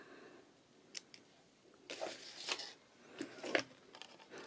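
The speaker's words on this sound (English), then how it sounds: "I'm just going to cut my cord, my elastic cord." Scissors snip elastic cord while a tea-themed traveller's notebook is being assembled, giving a few quiet, separate cuts and crisp rustles in a calm room.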